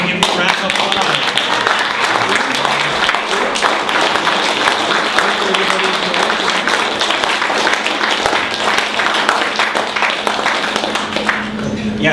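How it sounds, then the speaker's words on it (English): Audience applause at a talk, honouring the venue owner, with continuous clapping from a sizeable crowd lasting the whole stretch, people talking faintly underneath. "We want to give him a round of applause."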